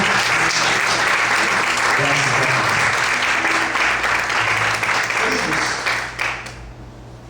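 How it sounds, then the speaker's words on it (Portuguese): A church congregation applauds loudly and steadily during a morning service, with a voice speaking over the clapping before it fades near the end. "Você pode aplaudir o Senhor esta manhã?"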